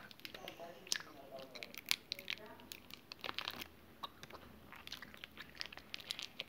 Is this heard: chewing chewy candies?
yes